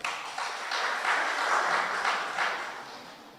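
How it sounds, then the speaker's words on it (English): Applause at a regional corporation Divali celebration, a steady wash of many hands clapping from a crowd that swells slightly and fades, with no talk over it. "They deserve a round of applause as well"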